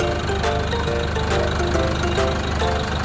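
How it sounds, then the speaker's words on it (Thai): A 2018 Isuzu D-Max 1.9-litre diesel pickup engine idles steadily close by, a low rumble with a regular knocking rhythm and no voices. "เครื่องยังดังนิ่มมากครับ"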